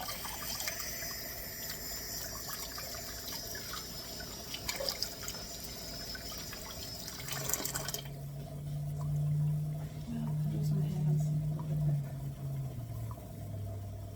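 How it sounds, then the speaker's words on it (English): A kitchen utensil is rinsed under a running tap, with water splashing and trickling at moderate volume, then a low hum as the flow settles into a steady fill toward the end. "I'm going to need this again, I think. I'll wash this out."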